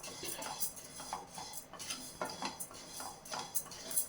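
About fifty grams of black kavuni rice is dry-roasted in a hot kadai, giving faint, rapid ticking and rattling of grains against the metal in an irregular rhythm.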